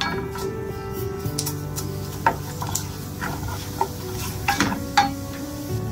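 Idli podi being stirred in a pan, a steady scraping stir with light sizzling and occasional clinks of the spoon against the metal, close and moderately loud with no talking.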